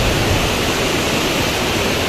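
Rain-swollen river water rushes over a weir on the river at Pattambi, a steady, dense roar of churning water that stays loud and unbroken throughout.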